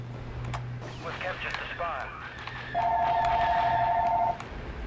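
A telephone rings inside a house during Star Wars Battlefront play, with one loud, steady electronic ring tone rising above background game noise and a few scattered sounds.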